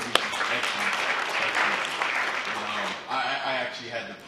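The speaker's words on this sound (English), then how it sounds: "give yourself a round of applause" An audience at a film screening reception at a museum claps in steady, dense applause through most of the stretch, easing briefly before picking up again, with a voice or two mixed in.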